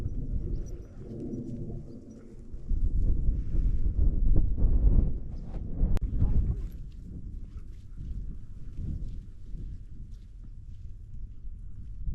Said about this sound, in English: Freezing wind today.